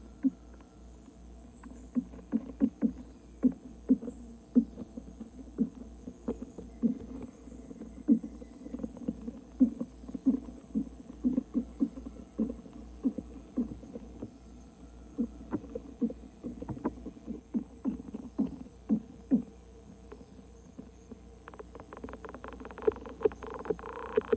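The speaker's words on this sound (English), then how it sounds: "they communicate with vibrational signals that travel up and down the stems and leaves of their host plant" Treehopper vibrational signals picked up from a host plant stem in the Amazon: a long run of soft irregular buzzing pulses and clicks over a low hum, steady and close with no voices.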